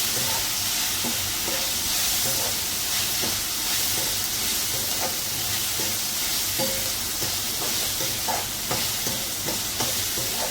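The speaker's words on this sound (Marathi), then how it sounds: "काही मी डाळ टाकते ती पण दोन मिनटं चांगली तेलात आपण परतून घ्यायची आहे" Chopped onion and dal fry in oil in a pan with a steady, dense sizzle and hiss that lasts throughout, broken by occasional stirring scrapes. No one speaks.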